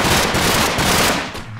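Continuous loud automatic gunfire from an armored personnel carrier in Minecraft, dense rapid rattling that fills the whole stretch before easing slightly at the end.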